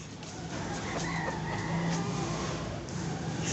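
Chickens, including an old injured hen, cluck and make short calls amid a steady background of ambient noise, fairly close and continuous.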